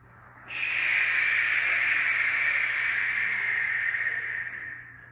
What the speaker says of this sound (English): So you can hear the breathing sounds as long and smooth.